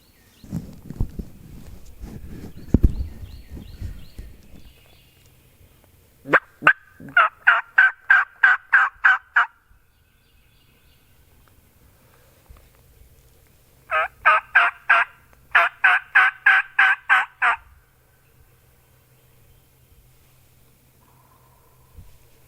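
Wild turkey gobbling on public land in spring: after some nearby rustling and footsteps, a turkey lets out two loud, rapid rattling gobbles several seconds apart, each a quick burst of repeated notes, carrying clearly across quiet woods.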